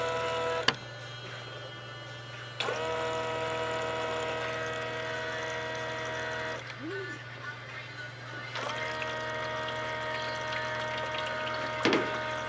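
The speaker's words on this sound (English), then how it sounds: "Now it's going to run the water pump" Water pump inside an ice machine running with a steady tonal whine and low hum, interrupted by abrupt stops and restarts and a few brief gurgling blips, fairly close and alone.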